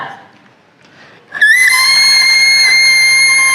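A person imitates an elk herd bull's bugle call, a loud, sustained high-pitched whistling scream that rises sharply and holds steady for over two seconds after a quiet, breathy lead-in.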